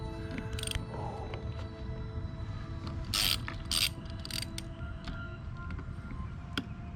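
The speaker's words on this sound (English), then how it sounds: "We'll go ahead and use our Torx to take off the expansion valve" A Torx T25 driver works loose the AC expansion valve on a Ford Focus, giving a few short ratcheting clicks and faint metallic scrapes against a steady low mechanical hum.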